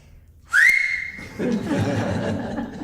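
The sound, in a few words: whistle imitating a mother's dinner-time signal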